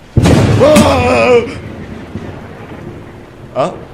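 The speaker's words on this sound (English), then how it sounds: "As I heard the lightning strike from outside" A sudden loud crack opens into a rumbling wash like thunder with rain, a wavering tone over it, then a brief vocal sound near the end.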